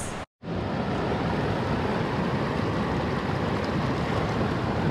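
Wading across a cold mountain river in the Wind River Range gives a loud, continuous rush of flowing water and splashing close by, broken by a brief dropout near the start.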